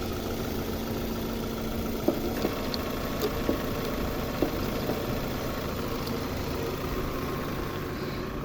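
Toyota Camry 2.0 engine idling at a smooth, steady rumble, with a few faint clicks and taps scattered over it.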